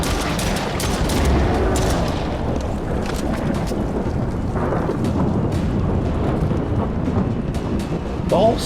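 Stormy outdoor ambience from the video game Stray Souls: a steady roar of rain and wind with rumbling, crackling bursts like thunder, loud and continuous across the whole stretch with no talk.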